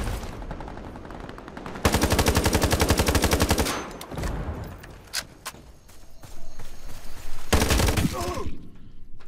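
Rapid automatic gunfire in the online shooter Ironsight comes in two loud sustained bursts, with a few scattered shots and game sounds between them and a voice talking faintly.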